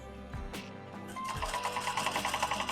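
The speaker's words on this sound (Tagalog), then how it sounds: "Dahan-dahan lang po ang apak dito sa treadle niya." A JUKI sewing machine worked by a foot treadle starts up from a few soft clicks into a steady, fast, rhythmic whirring chatter. It is moderately quiet, close by, with no voices.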